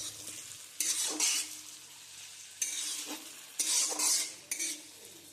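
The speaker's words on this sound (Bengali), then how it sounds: "খুব ভালোভাবে আমি আবারও নাড়াচাড়া করে" Chicken Manchurian gravy with sauce being stirred in a pan, a spoon scraping and clinking in repeated bursts over a soft sizzle, close and fairly quiet.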